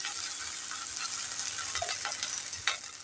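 Ginger paste, cumin powder and spices sizzle steadily in hot oil for a bitter gourd rezala, with a constant bright frying hiss and occasional spatters and stirring scrapes.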